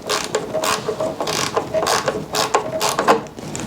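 Ratchet wrench backing out two quarter-inch bolts from the electric starter of an Ariens snow blower on a workbench, a close, steady run of rapid clicking bursts repeating throughout.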